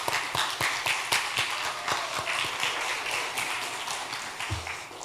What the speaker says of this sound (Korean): 우리 아까처럼 큰 박수로 환영하겠습니다.